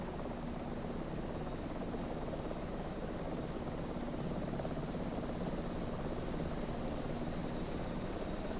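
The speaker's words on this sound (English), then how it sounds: "Fully loaded Chinook." A fully loaded Chinook helicopter flies in Microsoft Flight Simulator 2024, a steady, dense rotor and engine roar that holds unchanged throughout, with no talk.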